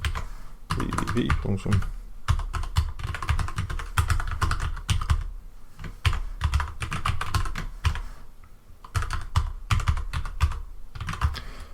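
Rapid keystrokes on a computer keyboard as a wget download command is typed into a terminal, steady clicking bursts with short pauses, close and clear throughout.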